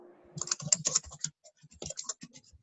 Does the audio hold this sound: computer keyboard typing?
yes